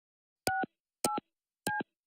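Three short, evenly spaced telephone keypad tones sound clean and close while a call is placed, with silence between them and no talk.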